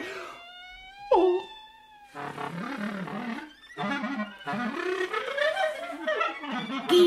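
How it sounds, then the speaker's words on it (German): A big tomcat yowls and caterwauls in a fight scene from an East German children's radio play, with long wavering wails that rise and fall, loud and close, breaking into harsher screeching bursts. "Ein großer Kater."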